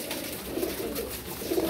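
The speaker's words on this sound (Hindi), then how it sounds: "ऐसे लाजवाब कबूतर हैं माशाल्लाह" Pigeons coo in soft, low, rolling phrases, close by and fairly quiet, with a couple of throaty bursts in under two seconds and no talking.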